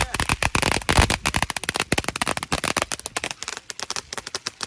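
Diwali firecrackers burst in Canada in a rapid, dense string of sharp cracks and pops that go on for several seconds, loud and close.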